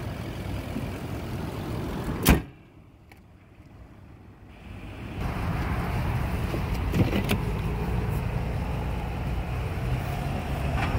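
A 2012 Nissan Armada Platinum Reserve gives a sharp thump, then a quiet stretch with a low electric whir of its power windows. A steadier mechanical hum returns and continues to the end.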